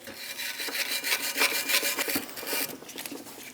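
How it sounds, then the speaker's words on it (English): Wire brush scrubbing the brake pad slide areas on the front brake bracket of a Chevrolet Express 2500, quick back-and-forth rasping strokes in a close, steady rhythm, with no talk. "Using a wire brush,"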